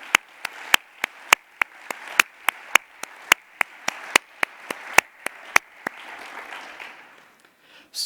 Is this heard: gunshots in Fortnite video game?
no